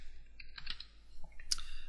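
Several light, scattered keystrokes on a computer keyboard, quiet and close, with irregular gaps between them.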